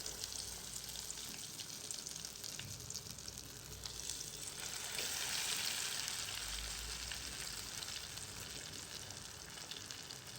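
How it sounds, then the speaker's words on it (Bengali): Three pieces of chicken fry in hot oil, a continuous quiet sizzle and bubbling that swells slightly midway, heard close with no talking. "আমি 3 জনের 3টা চিকেন ফ্রাই করতে দিয়ে দিয়েছি।"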